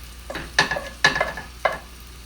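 Garlic and onions sizzle in oil in a pan being tilted, with a soft steady fry broken by three or four sharp scraping clicks of a utensil against the pan.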